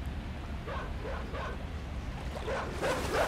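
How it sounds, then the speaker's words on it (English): A dog barks several times in the side-scrolling game Inside, starting faint and growing louder near the end over a steady low rumble of game ambience. "is that a dog?"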